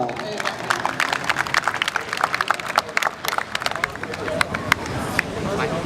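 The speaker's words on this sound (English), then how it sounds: "please give a round of applause for Alvin" An evening event audience claps for an introduced speaker, a dense run of sharp hand claps at moderate loudness with some crowd murmur underneath, continuing steadily throughout.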